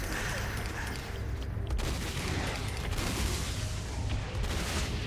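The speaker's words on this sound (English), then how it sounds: "Explosions are satisfying." A video game battle is heard, with dense, rumbling explosions and bursts of gunfire crowding a continuous loud wash of noise, and a few sharper booms standing out.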